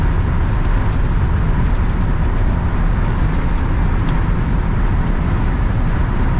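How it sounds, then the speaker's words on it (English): A 1959 Chevrolet Apache truck engine held at about half throttle, its exhaust giving a steady, throaty, slightly raspy drone that stays loud and even throughout with no talk over it. "Little bit of rasp coming out of the exhaust, but not too hateful"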